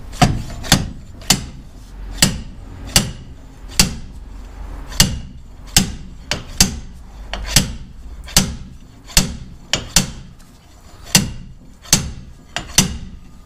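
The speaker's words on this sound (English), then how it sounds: "And then we'll slide hammer that out" Sharp metallic clanks repeat at a steady rhythm, about one each second, as a slide hammer is yanked again and again close up, pulling an axle shaft from a Mk2 Escort.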